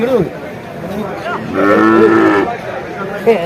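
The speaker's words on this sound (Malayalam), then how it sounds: "എന്ത് വില പോത്തുകുട്ടി നോക്ക് ആ പോത്തുകുട്ടി എന്താണ്" Buffalo calf mooing among livestock for sale, a drawn-out low moo near the middle, close and loud, with people talking around it before and after.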